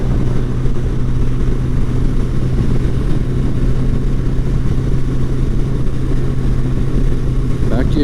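A Goldwing motorcycle cruising on a freeway at 70 mph gives a steady, loud low engine drone with constant wind rush, unchanging throughout.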